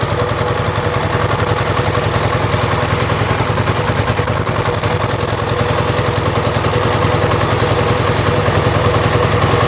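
A Yamaha XS1B motorcycle engine idles close by, a loud, steady, rhythmic putter with even pulsing and no other sounds over it.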